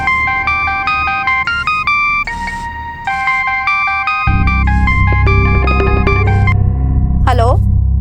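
A synthesized ringtone melody of bright, beeping notes plays loudly, then a low rumbling hum joins beneath it before a quick rising chirp.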